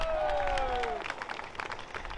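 Outdoor crowd at a 15-minute-city protest in Oxford claps and cheers, clapping scattered and lively, with a falling tonal sound fading out early.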